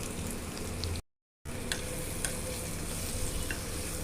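Prawns fry in a pan for an okra and prawn curry, with a constant close sizzle and light spatter, a brief dropout to silence, then faint stirring clicks.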